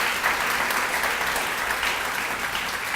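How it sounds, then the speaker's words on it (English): Audience applause at a children's service awards ceremony, a steady dense wash of clapping from a crowd, moderately loud and continuous with no talk. "One more round of applause to Dan."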